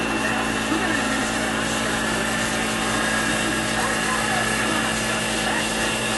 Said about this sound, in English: Turn on the mill.